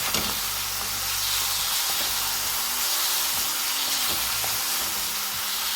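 Soy sauce and seasoning sizzle loudly in a hot pan while a cabbage dish cooks, a continuous bright hiss of frying with faint clanks of stirring underneath.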